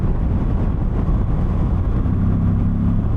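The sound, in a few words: V85TT motorcycle engine and airbox intake growl at night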